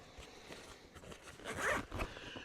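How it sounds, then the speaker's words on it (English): A YKK zipper on a compact outdoor sling pack is pulled open in several short, raspy strokes, close up and fairly quiet, the last pull being the loudest. "The zippers are, I believe, YKK, and they have a nice feeling to them."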